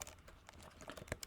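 Quiet, quick typing on a computer keyboard while entering Java code, a rapid run of light clicking keystrokes with a slightly firmer tap near the end.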